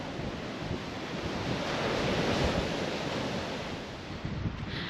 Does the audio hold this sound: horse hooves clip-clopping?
no